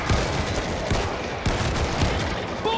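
Revolver shots and other gunfire crack through a zombie shooter's New York campaign mission, a dense loud barrage of overlapping shots with several sharper reports standing out.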